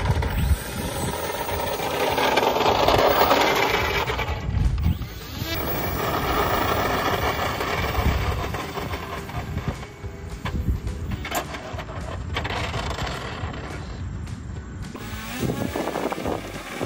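A 3D-printed Craycle Cub RC airplane's electric motor runs at throttle with a steady, loud whirring drone, shifting in pitch and level across the run, with no talking.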